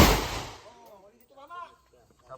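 A single sharp gunshot from a homemade firearm being test-fired outdoors at a paper target, a loud broadband crack at the start that decays quickly, followed by voices talking.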